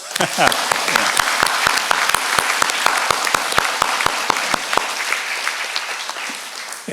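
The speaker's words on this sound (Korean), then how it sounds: "다 한꺼번에 모아서 박수 한번 올려주십시다." Audience at a Korean church pastor's book launch and dedication ceremony breaks into loud, sustained applause with many hands clapping together close by, steady throughout without pause.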